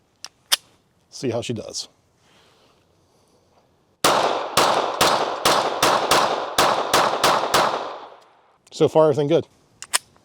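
Rapid string of about ten pistol shots from a PSA Micro Dagger fed by a factory Glock 43X ten-round magazine, loud and close, with brief talk before and after the volley.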